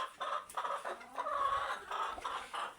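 A broody hen clucks in short repeated bursts, close by and fairly loud, a low throaty run of calls with brief pauses between them.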